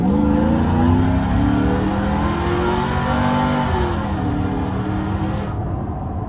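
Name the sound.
supercharged 2010 Chevrolet Silverado accelerating at full throttle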